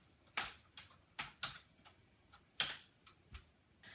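Quiet keystrokes typing on a computer keyboard, a sparse, irregular run of about a dozen separate clicks with short gaps, nearby and alone with no talk.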